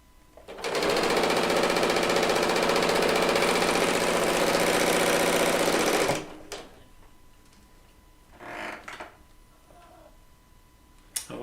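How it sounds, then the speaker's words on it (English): Serger sewing machine chain piecing a quilt top, a fast steady whirring run of about five seconds that stops abruptly, followed by faint fabric handling. "It's one reason I love to piece on the serger."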